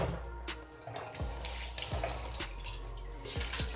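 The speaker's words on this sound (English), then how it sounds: "So let me just quickly give this pot a quick rinse." Tap water runs steadily into a cooking pot being rinsed in a kitchen sink, a close splashing rush with small knocks of the pot.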